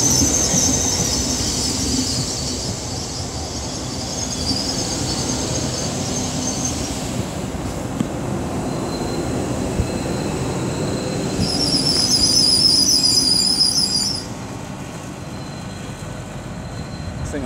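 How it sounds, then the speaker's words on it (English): A freight train slows and halts at Peterborough station on the East Coast Main Line, a steady low rumble with high-pitched brake and wheel squeals rising near the end before easing off. "That freight train's just stopped again."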